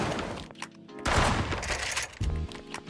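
A pump shotgun fires in the shooting game 1v1.lol, giving heavy booming blasts about a second apart that sound close and loud, with no talk.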